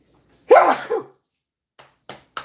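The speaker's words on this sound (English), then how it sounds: "I have to sneeze." One loud, close sneeze bursts out, followed by a few soft breaths and faint clicks in an otherwise quiet room.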